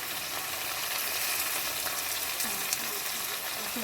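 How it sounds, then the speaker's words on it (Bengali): Potatoes sauté in a pan with tomato, a little chili powder, salt and turmeric, giving a loud, continuous close sizzle with faint stirring scrapes and no talk. "এই দিয়ে হালকা আলুটাকে কিছুক্ষণ কষিয়ে নেওয়া হবে"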